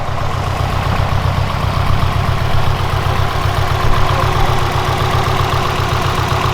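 Subaru WRX engine idling with an Aeromotive fuel pressure regulator and AN lines fitted, a steady low pulsing rumble running evenly throughout, close and fairly loud, with no talking.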